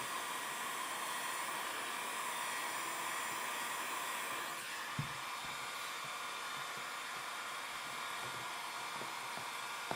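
A heat gun blows a steady, close airy roar across the whole stretch while setting a side number plate graphic on a 2017 Honda CRF450 motorcycle, with faint handling knocks partway through.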